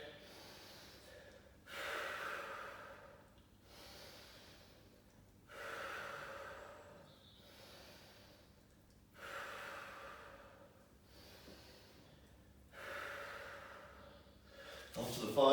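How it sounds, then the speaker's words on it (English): Slow, deep breathing during a floor-based lower-body conditioning stretch: five long rhythmic breaths, each a rising airy inhale-exhale swell about every three to four seconds, fairly faint and close, with no talking. "We'll go 5 long deep breaths"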